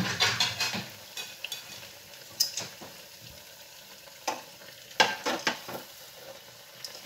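Potato doughnuts (rosquillas) fry in very hot oil, a steady close sizzle broken by sharp crackling bursts and a few utensil clicks, with no talking.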